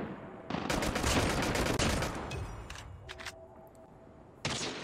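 Pistol fire in Call of Duty Mobile comes as a rapid volley of loud, close gunshots lasting a couple of seconds, followed by a few scattered shots and a final burst.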